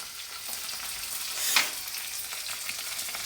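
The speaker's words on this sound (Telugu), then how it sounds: "ఫ్రైకి ఒక ఇనుప మూకుడు పెట్టి ఆయిల్ వేసిన, ఆవాలు జీలకర్ర, పచ్చిమిర్చి, కరివేపాకు" Mustard seeds, cumin, green chillies and curry leaves fry in oil in an iron pan, giving a steady, close hiss and sizzle with a brief louder crackle midway.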